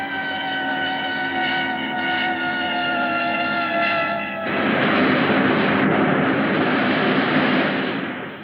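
A spaceship engine roars through a power dive in a vintage film sound effect: a loud, steady whining drone that bursts into a dense, rushing roar and holds, with no voices.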